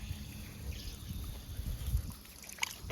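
Tap water trickles from a faucet for a dog to drink outdoors in warm weather, a steady faint dribble with light splashes and some low rumbling background noise.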